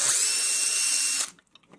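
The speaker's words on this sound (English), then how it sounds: "you can see that little spline that's in there and see where to drill your hole" A power drill bores a pilot hole through the spline of a frog bubbler, running loud and steady at high speed for just over a second before stopping abruptly, leaving a few faint clicks and handling noises.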